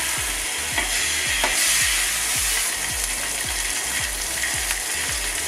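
Burgers on a very hot Weber Kettle barbecue grill give a steady, bright sizzle, with a regular ticking or clicking repeated underneath about every half second, close up and with no talk.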